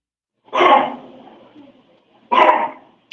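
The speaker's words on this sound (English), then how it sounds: "I think you got a dog." A dog gives two loud, close barks spaced well apart, each one a short harsh burst that fades quickly, heard during a conversation indoors.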